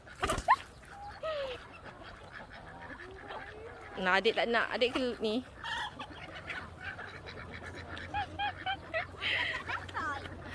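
A turkey gobbles in short bursts of calls while people talk nearby.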